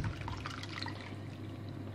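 Water poured into simmering sauce for chicken meatballs in a pan, a brief soft continuous pouring and bubbling over a low hum.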